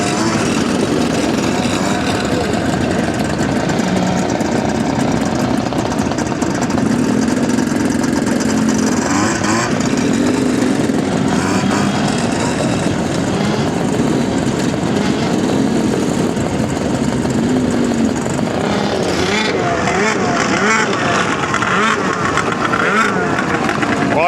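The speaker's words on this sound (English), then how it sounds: "It's a Harley in the wild, running." A Harley-Davidson motorcycle engine rumbles steadily for the whole stretch, with other traffic noise mixed in around it.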